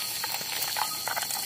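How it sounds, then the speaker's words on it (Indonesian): Carp sizzling as it fries in hot oil at a riverside campsite cook-up, a steady bubbling hiss with small pops and crackles throughout, close by and without talk. "Wow, goreng ikan mas bro."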